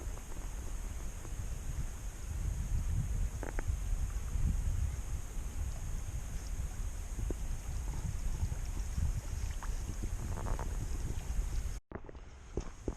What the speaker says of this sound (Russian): Давайте послушаем звук воды